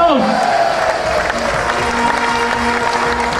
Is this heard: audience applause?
yes